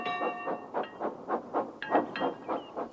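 A small tram engine clanks along the main line, its steady rhythmic chuffs and clatter repeating about eight times, with brief whistle-like tones over the top and no talking.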